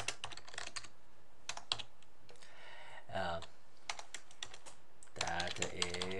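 A computer keyboard is typed in quick bursts of key clicks while a conference registration form is filled in, with speech coming in between the bursts.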